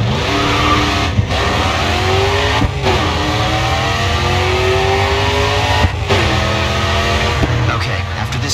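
Race car engine at full throttle in the racing game GRID 2, a loud continuous roar with rising and falling revs through several gear shifts, brief dips between pulls, with a faint voice briefly over it.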